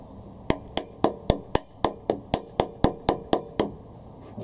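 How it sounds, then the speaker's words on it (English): A rubber hammer taps the cam carriers into place on a Honda Civic B18C4 engine during a camshaft install, a close series of about fourteen sharp, evenly spaced knocks with no talking. "Rubber hammer, that's it."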